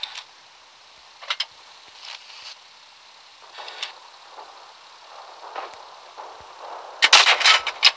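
Tank cannon shots in World of Tanks Blitz while driving a T-18, a few scattered sharp bangs and ticking hits at mid distance, fairly faint apart from a louder flurry near the end.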